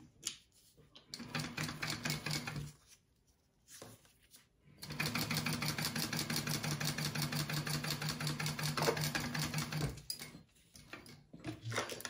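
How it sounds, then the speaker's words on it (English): A sewing machine top stitches a waterproof canvas card slot in two bursts, first a short run and then a longer steady, rapid mechanical whir, with brief pauses and faint handling between. "it's easy to take it under your machine and top stitch"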